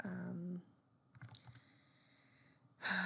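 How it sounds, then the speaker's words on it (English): Data being typed into a spreadsheet on a computer keyboard, a brief cluster of quick keystroke clicks between moments of a person talking. "I'm just going to type some data in so you can see that that there's some information in"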